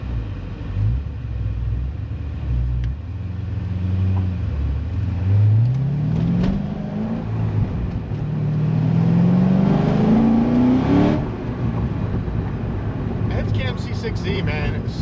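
A Chevrolet Corvette C6 Z06 with an LS7 V8, rebuilt to 615 hp, revs up in a rising drone and settles back down to a steady idle rumble, loud and close inside the car.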